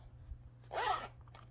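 A zipper on a pocket of a Dooney croco satchel handbag is pulled once in a quick, close, crisp zip, faint against a low background hum.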